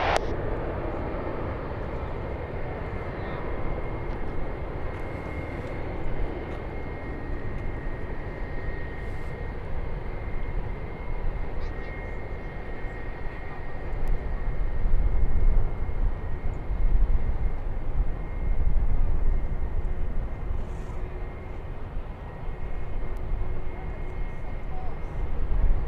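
A United airliner holds on runway 9 at San Diego airport under a steady, loud engine roar that swells slightly midway, while radio chatter is heard faintly under it.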